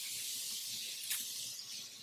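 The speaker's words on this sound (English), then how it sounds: "I'm going to use this Evian misting mineral water spray." An Evian mineral water misting spray hisses in a soft, steady burst of fine spray, fairly close and continuous, with no talking.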